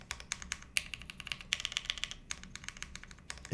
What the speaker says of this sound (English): It's just the enter key. It's kind of sharp.